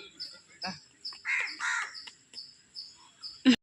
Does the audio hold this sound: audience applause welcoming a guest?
no